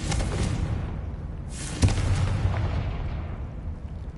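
A Confringo fire spell from the video game Hogwarts Legacy bursts with a sharp, booming blast partway through, set in a dense, rumbling wash of game noise that fades out afterward.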